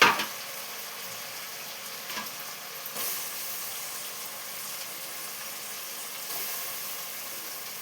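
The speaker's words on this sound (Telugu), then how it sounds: "పచ్చి రొయ్యలు వేసుకుందాం." Raw prawns frying in a pan for prawn biryani, a steady hissing sizzle right after they drop in, with a brief louder burst at the start and faint stirring clinks, no talk.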